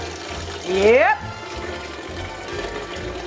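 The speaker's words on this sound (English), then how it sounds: "I'm probably gonna put about 3 to 4 quarts of water here" Tap water runs into a cooking pot being filled with about three to four quarts for boiling pasta, a brief steady gush under a short spoken reply.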